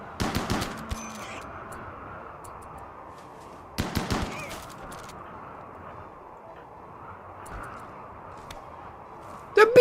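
A chain shotgun fires in the colony game RimWorld: a few short, sharp clusters of rapid blasts break a quiet hum, arriving near the start, around the middle, and again at the very end, while people talk.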